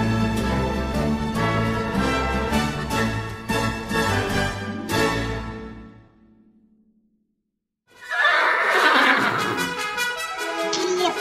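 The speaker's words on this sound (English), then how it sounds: "wild horse on the loose" A horse gives two loud, shrill whinnies close by, the first long and quavering before fading out, then a pause of near silence and a second harsher neigh.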